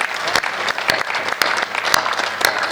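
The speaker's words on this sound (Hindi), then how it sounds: "कुछ लोग बीच में खड़े होकर तालियां बजा रहे थे" Audience at a Hindi kavi sammelan poetry recital applauding, dense sustained clapping from a crowd with sharp louder claps standing out, loud and close throughout.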